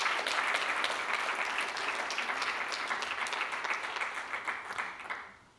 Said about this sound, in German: Vielleicht einen kleinen Applaus für die beiden